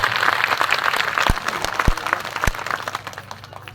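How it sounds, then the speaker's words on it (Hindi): Audience applause at a Hindi poetry recitation on cow worship at a dham temple gathering in Haidergarh, a steady dense clapping from a crowd with a few sharp close claps standing out, fading slightly toward the end. "आशीर्वाद की तालियां उठाइए ना।"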